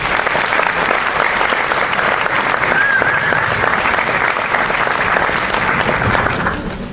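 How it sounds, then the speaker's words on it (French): Sustained applause from a conference audience, a dense steady wash of clapping from many hands that holds for about seven seconds and tapers slightly at the end. "Donc j'aimerais que vous les applaudissiez."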